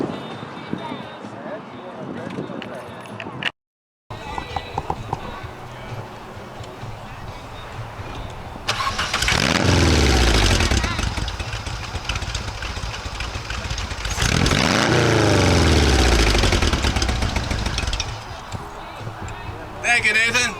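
A 1971 Volkswagen fitted with a carbureted Subaru engine and radiator idles at an outdoor car show, a rough steady engine note under people talking nearby, with revving swells and broad noisy passages partway through.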